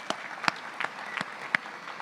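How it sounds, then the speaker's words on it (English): Sparse, scattered claps from a banquet audience at an awards program, a few distinct hand strikes at uneven intervals, fairly quiet and thin rather than a full ovation. "Round of applause."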